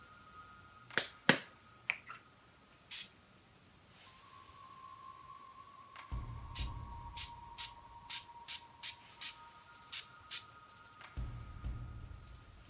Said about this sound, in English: I'm going to use my Urban Decay setting spray and I'm going to set the makeup look